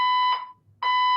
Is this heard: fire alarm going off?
yes